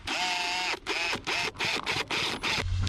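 A power driver drives screws into a corrugated translucent panel on a 12x16 garden shed, rapid ratcheting whirs in several short bursts with brief pauses between, loud and close.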